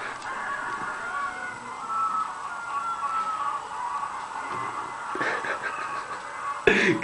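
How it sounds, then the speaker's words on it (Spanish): A hen clucks and murmurs steadily at close range while laying an egg, with a sharper squawk near the end and light background noise. "eso es una gallina"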